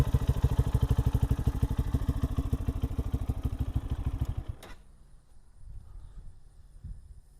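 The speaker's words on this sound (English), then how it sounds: "You can come down here and you can hear the engine." A 2023 Lifan KPM 200cc motorcycle engine thumps in a fast, steady rhythm up close, then cuts off, leaving faint rustling and quiet background noise.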